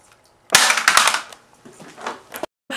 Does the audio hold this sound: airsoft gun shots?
yes